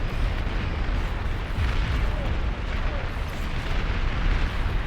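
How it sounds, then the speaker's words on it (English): Long-range plasma cannon fire in the strategy game Beyond All Reason, a dense, continuous roar of heavy booming blasts that holds steady and loud for the whole stretch without a break. "Long-range plasma cannons are targeting your units."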